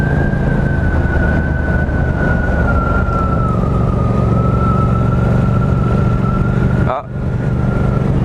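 A fire engine siren wails steadily and loudly over heavy road and engine noise, with talking partly over it and a brief dip near the end.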